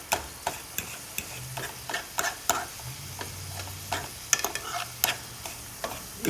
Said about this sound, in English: You hear how it's quieted now? Because you don't want to cook your meat too fast either while you're breaking it down.